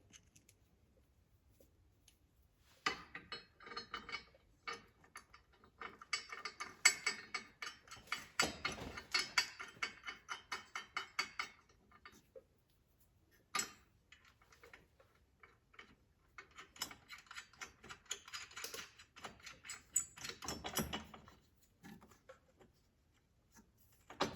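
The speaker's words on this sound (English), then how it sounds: "And just tighten that down, starting with your 2 bolts in the back." A ratchet tightens the bolts of a battery relocation kit on a Polaris Sportsman 450 ATV, giving bursts of rapid close clicking separated by short pauses.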